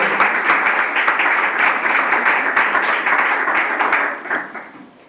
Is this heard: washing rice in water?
no